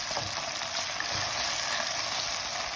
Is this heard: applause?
no